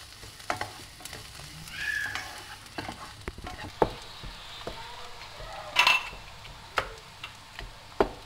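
Food sizzles and crackles in a pan with scattered sharp ticks and clinks from stirring, steady and close, with no talking.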